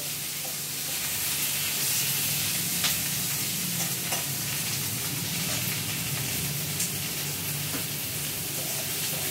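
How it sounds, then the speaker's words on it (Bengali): Chopped tomatoes sizzle and fry steadily in a pan with lightly fried onions for a Bengali prawn bharta, a continuous close hiss with occasional stirring clatter, no voices. "পেঁয়াজটা মোটামুটি হালকা ভাজা হয়ে গেছে। এবার তার মধ্যে দিয়ে দেওয়া হলো কেটে রাখা টমেটো।"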